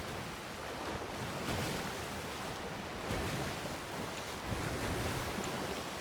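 Rough ocean waves in the Sea of Thieves pirate video game, a steady broadband wash of surf with wind noise and creaking boat ambience, loud and continuous throughout with no talk.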